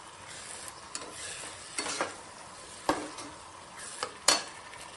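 A spoon stirring chicken gravy with kasuri methi in a pan, a quiet sizzle with scraping strokes and a few sharper knocks against the pan, no talking.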